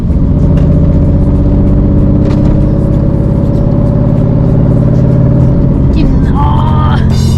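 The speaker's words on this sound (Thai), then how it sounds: "เป็นเครื่อง NA นะครับ เครื่อง NA คือเครื่องไม่มีเทอร์โบ เสียงก็จะโหดนิดหน่อยเท่ ๆ" A 1970s Datsun Fairlady with a naturally aspirated, non-turbo engine runs with a loud, steady, deep growl throughout, and a voice cuts in briefly near the end.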